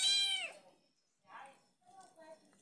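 Small cats meow nearby, a loud, high, drawn-out cry followed by softer, shorter meows after a brief pause, with no talking over them.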